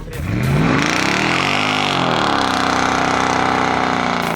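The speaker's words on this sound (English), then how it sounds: "As far as 4-liter biturbo engines are concerned, AMG sound is one of the best" A Mercedes-AMG GT 63 S 4-litre biturbo V8 engine revs up, its pitch rising and falling in a sweep, then settles into a steady, loud, throaty drone with no talking.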